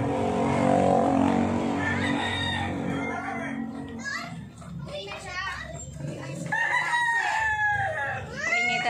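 Chickens cluck and a rooster crows amid a busy yard, with people talking over the birds throughout.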